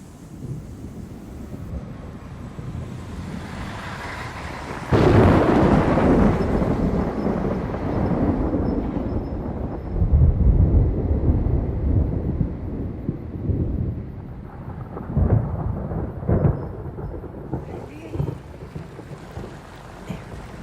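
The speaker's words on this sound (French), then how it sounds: "La tempête se rapproche." An approaching thunderstorm, with a loud crack and rolling rumble of thunder over steady wind and rain noise, followed by further low rumbles and gusts.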